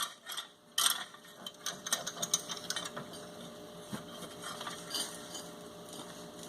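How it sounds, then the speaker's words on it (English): Close, fast ratcheting clicks from a big pipe wrench tightening a fitting down good and tight, coming in irregular bursts of metallic clatter with small knocks in between. "Grab your big pipe wrench,"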